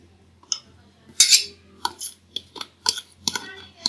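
A spoon clinks against a bowl while mixing yogurt into chickpea chaat with potatoes, a handful of short scraping and tapping sounds spread irregularly across a few seconds, fairly close and moderately loud.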